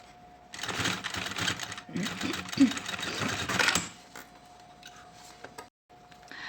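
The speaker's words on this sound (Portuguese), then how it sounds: "Aqui eu já costurei o vivo" Sewing machine stitching binding onto a synthetic leather pencil case, with two dense runs of rapid mechanical whirring separated by a brief pause, close and fairly loud, then quieter handling afterward.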